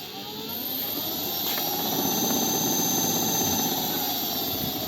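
Electric motor of an e-bike running under throttle after a higher breaker and new ignition switch were fitted, a steady loud whine that rises slightly in the first second and then holds evenly throughout.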